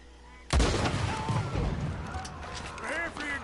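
Gunshots ring out in a western outlaw video game, one sharp loud blast followed by a burst of fire and echoing reports, with voices and game sounds continuing underneath.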